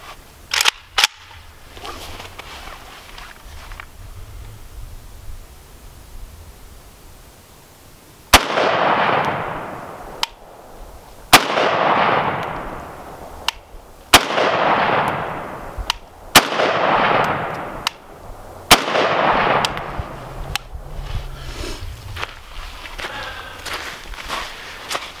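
Zastava ZPAP underfolder rifle firing Tula ammunition at 25 yards offhand, a quiet start followed by about six loud, sharp shots spaced a second or two apart, each with a brief echoing tail, plus small handling clicks.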